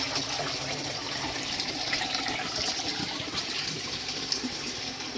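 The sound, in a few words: water flowing from sump tank into aquaponic grow bed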